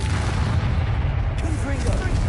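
A Bombarda blasting spell from the Hogwarts Legacy video game bursts out as a deep, booming explosion over a steady low rumble, with a voice speaking briefly beneath it.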